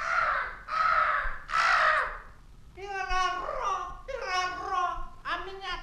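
A crow in an animated Japanese fairy tale gives three loud, harsh caws, followed by a high, childlike voice babbling in several short bursts.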